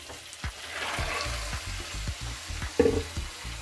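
Masala frying on a full flame gives a close, steady sizzle broken by repeated rhythmic scrapes of a spoon stirring the pan, and a brief louder clatter near the end.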